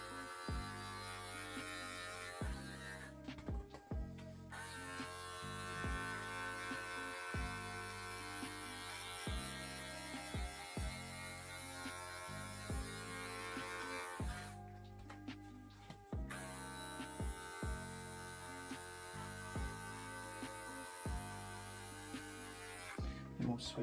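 An electric hair clipper buzzes steadily and close through a skin fade haircut, a constant motor drone broken by two short pauses where it cuts out, with no voices over it.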